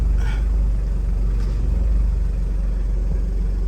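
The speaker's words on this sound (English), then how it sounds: "for a turbo diesel it idles really good." Steady, loud, close-up idle of a 1996 Toyota Hiace Super Custom turbo diesel 4WD, a smooth continuous low rumble with faint clatter and no other sounds.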